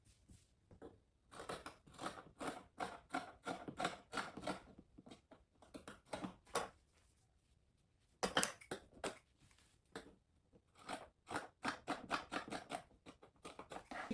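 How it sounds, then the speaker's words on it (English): Scissors cut off the scrunchy elastic bottom of a pair of donor jogger pants in quiet, close runs of crisp snipping through fabric, separated by short pauses. "If you got the scrunchy bottom, you just want to cut it off."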